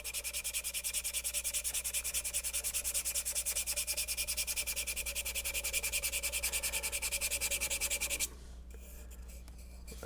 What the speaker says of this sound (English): sanding just to knock those edges down. I'm going to use the sanding stick.